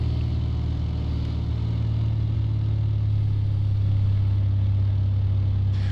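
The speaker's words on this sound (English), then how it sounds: "And I'm going to throttle us back." A steady, loud low drone of an aircraft engine in the X-Plane 11 flight simulator, throttled back, hums continuously with a constant rumbling tone and no voices.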